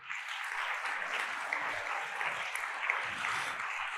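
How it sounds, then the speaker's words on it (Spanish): A church congregation bursts into sustained applause during a sermon, a dense, even wash of many hands clapping together for several seconds, fairly loud and without a speaking voice. "Da un aplauso al Señor."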